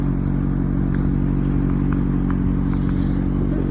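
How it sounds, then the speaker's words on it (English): A C8 Corvette ZR1 with an LT6 engine idles at a gas station, giving a steady, loud low rumble that holds unchanged throughout, with a few faint clicks and clatters over the top. "a video here of the car idling at the gas station, and yeah, it sounds exactly like the LT6 engine from the Z06"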